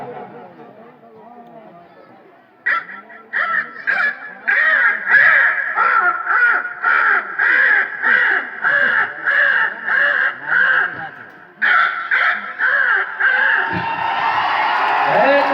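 A voice imitates a crow, cawing in a long run of about a dozen harsh, evenly spaced calls, loud and close, after some quieter talk.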